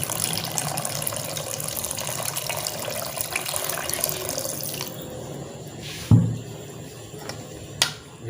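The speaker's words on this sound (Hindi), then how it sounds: "तकरीबन 2 गिलास पानी डाल देते हैं।" About two glasses of water pour into a pot of beef kadai with onions, a steady splashing rush for several seconds, then it stops, followed by a couple of sharp utensil clinks and quieter kitchen sounds.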